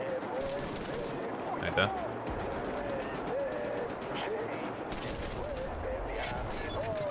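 Bursts of rapid gunfire from the video game Wolfenstein: The New Order crackle through the clip over continuous game sound, and someone speaks briefly.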